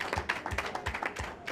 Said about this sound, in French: je voudrais que vous vous applaudissiez encore une fois pour ça